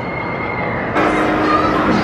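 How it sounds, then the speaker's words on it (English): A passing amusement park ride train at an indoor Nickelodeon Universe theme park in a mall, a steady rolling rumble that swells partway through and carries on over loud crowd and ride noise, with a voice faintly present. "train going by"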